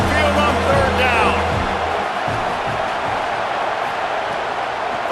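Simulated stadium crowd at Saban Field in College Football 27 during an Alabama home game, a loud steady roar rising on third down, with a tonal organ-like sound early and a commentator's voice over the top.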